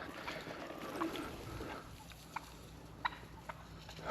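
Wild turkeys gobbling outdoors, a few faint, short calls scattered over a steady background hiss, somewhat distant, with no talking.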